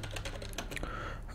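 Computer keyboard typing: a short run of light, quick, close key clicks with a brief pause.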